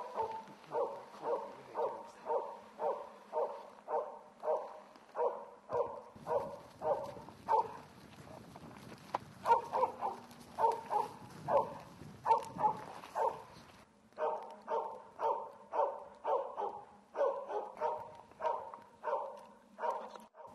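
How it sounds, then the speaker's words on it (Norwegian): An elk hunting dog barks without pause, a fast, regular run of loud, sharp barks that breaks briefly and then resumes, with faint rustling behind. "Når hunden har funnet elg, loser eller bjeffer den ustanselig."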